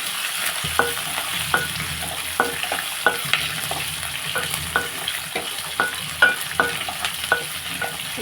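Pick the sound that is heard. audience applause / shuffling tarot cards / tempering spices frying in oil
tempering spices frying in oil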